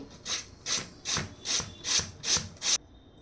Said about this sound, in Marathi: सर्वात आधी इथे बटाटा किसून घेणार आहोत इथे एकसारखं किसून घेणार आहे